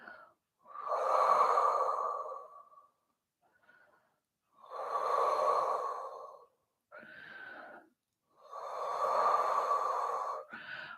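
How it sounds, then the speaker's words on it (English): Slow, deep breaths during a hamstring stretch, three long airy exhales spaced by pauses, with short inhales between, close and clear. "just take some nice deep breaths there"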